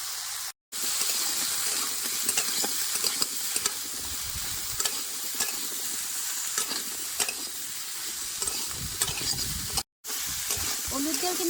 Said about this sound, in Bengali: তেলের মধ্যে লাউ দিয়ে 2 মিনিট নাড়াচাড়া করে নিচ্ছি